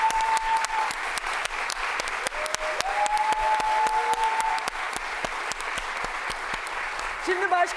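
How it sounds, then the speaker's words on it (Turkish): Sustained studio audience applause on a Turkish daytime television talk show, loud dense clapping throughout, with a few voices calling out above it. "ben sizleri alkışlıyorum"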